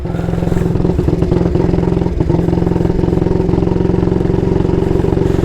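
A 1938 AJS Model 22 250cc motorcycle engine runs loud and close with a rapid, uneven, stuttering beat, the rhythm faltering now and then instead of settling into a smooth idle.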